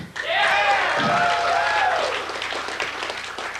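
A keynote audience at the H2K hacker conference in 2000 breaks into applause and cheering, a full wash of clapping with voices rising through it, then gradually thinning.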